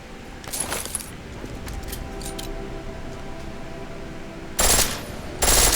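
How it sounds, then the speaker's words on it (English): A pistol fires in full auto in Deus Ex Mankind Divided, a short rapid burst followed by two louder sharp bursts near the end, with faint metallic clicks and handling sounds between. "The pistol in full auto will take down targets fast, but it'll burn through your ammo."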